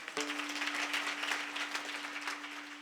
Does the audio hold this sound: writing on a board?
no